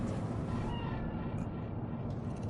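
A cat meows in Cyberpunk 2077 on PS4, a single drawn-out call rising over a dense, steady game ambience with no talking.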